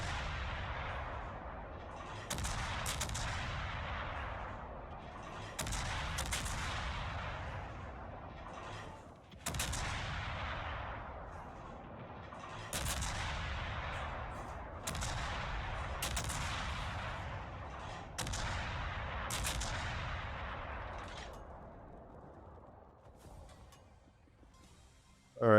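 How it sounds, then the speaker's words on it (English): The USS Des Moines cruiser in War Thunder firing broadside salvos of AP shells: about nine heavy booming volleys at a steady rhythm, each with a long rumbling decay, loud and close, with no talking. "This is Des Moines AP on the broadside here."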